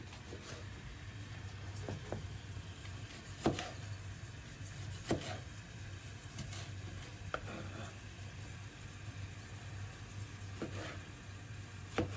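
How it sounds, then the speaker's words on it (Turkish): Sharp knife taps on a cutting board while chopping cherry tomatoes with a dull knife, scattered and unhurried, close by over a low steady hum in a quiet room. "Şöyle doğrayayım sonra bir daha doğrayacağım bunları."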